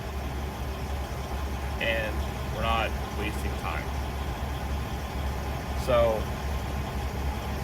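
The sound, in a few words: idling Freightliner Classic XL truck outside open window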